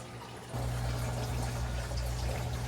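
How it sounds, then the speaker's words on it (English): A gentle splash and trickle leads into a sudden stronger, steady flow of water pouring into an aquarium sump, with a low pump-like hum running underneath, close and without talk. "Get a little water in there."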